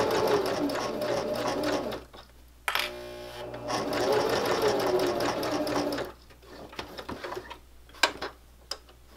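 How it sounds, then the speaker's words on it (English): A domestic sewing machine stitches a fabric tissue-pocket cover in fast, steady bursts, pausing briefly mid-run, then finishing with a few short back-stitch runs and clicks as the fabric is lifted and turned. "Back to my stitching and I'm just going to stitch over where I've started"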